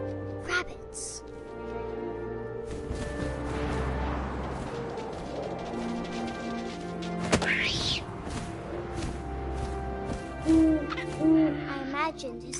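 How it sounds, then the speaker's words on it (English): An owl hoots repeatedly in the video game What Remains of Edith Finch, clear calls over an atmospheric wind-and-music bed, with a voice speaking alongside. "And suddenly, I was an owl"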